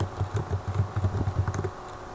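Computer keys are tapped in a quick, light burst of about a dozen clicks, close and fairly quiet, trailing off after a second and a half.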